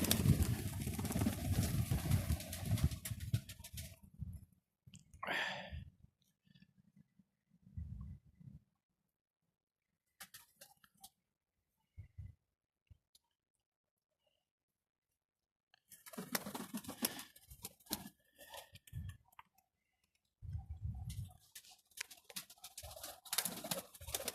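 Pigeons kept by a fancier coo and rustle in the evening, with soft low coos and wing and foot shuffles coming in scattered bursts between long quiet gaps.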